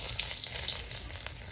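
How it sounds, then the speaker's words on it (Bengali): Onion frying in hot oil gives a steady, close bubbling hiss with no pauses and no voices. "এই যে আপনার গরম তেলে পেঁয়াজ দিয়ে দেওয়া হলো"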